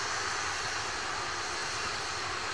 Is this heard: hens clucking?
no